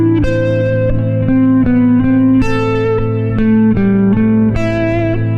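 Sustained electric guitar solo line with string skipping and a high ascending leap, singing notes over a steady low backing drone, loud and continuous with no talking.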